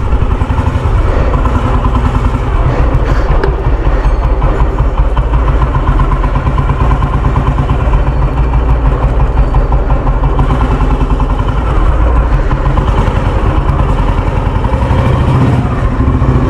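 A Royal Enfield Bullet motorcycle engine runs close by, a loud, steady thumping idle that continues unbroken for the whole stretch.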